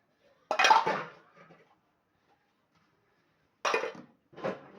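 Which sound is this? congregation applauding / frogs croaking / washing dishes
washing dishes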